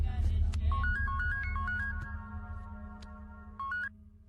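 An electronic phone ring tone plays a rising stepped melody, repeating after a pause, over a low rumbling background.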